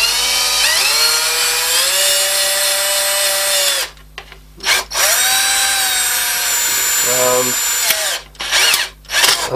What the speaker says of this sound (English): So let's drill through to start with.